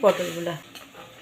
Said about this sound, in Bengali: পটলগুলো দিয়ে 4-5 মিনিট আমি ফুটিয়ে নেব